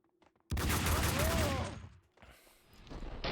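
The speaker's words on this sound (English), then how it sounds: "Apparently I'm shooting at that boss." Loud burst of rapid gunfire erupts abruptly after a near-silent start while shooting at a boss in the video game Max Payne 2, with dense continuous shots fading into quieter scattered game sounds.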